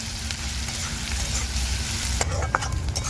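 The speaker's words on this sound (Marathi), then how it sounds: "कांदा आता मी मिक्स करून घेते तर आता कांदा मी लाल होत तर परतून घेणार आहे" Onions sauté in a pan with a steady, close sizzle, then a few stirring scrapes near the end, with no talk.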